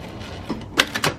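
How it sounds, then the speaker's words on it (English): A sewing machine runs briefly in a sewing lesson, giving a few quick, sharp mechanical clatters close to the microphone, with softer tapping just before them. "Put your foot down and just start sewing."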